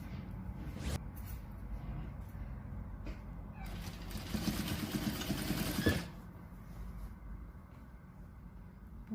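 A sewing machine stitches a patchwork strip bag, a steady mechanical whir running throughout and swelling louder toward the middle before settling back down, with no voices.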